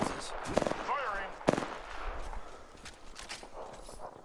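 Gunfire in the battle royale game Apex Legends: a quick rattling burst of automatic shots followed by a single sharp crack, then scattered thuds and movement, with people talking over it.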